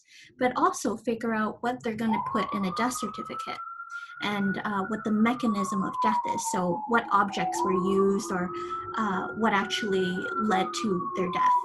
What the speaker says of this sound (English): Apologies for the sirens in the background.